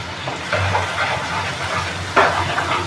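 Masala of turmeric and homemade red chilli powder for anda bhurji frying in a pan, a steady sizzle with a couple of louder scraping stirs of the spatula, close up with no speech.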